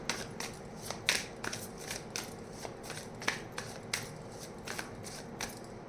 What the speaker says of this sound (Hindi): so will pull some cards for you